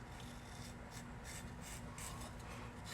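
A hand rasp scrapes back and forth across a block of yellow foam being shaped, soft repeated rubbing strokes close by, fairly quiet and even.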